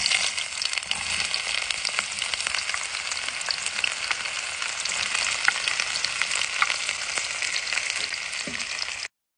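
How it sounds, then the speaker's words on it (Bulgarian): Chopped onion and pepper fry in a pan, a continuous bright crackling sizzle at an even level throughout, ending abruptly, with no voices. "След като чушките и лукът се позапържат"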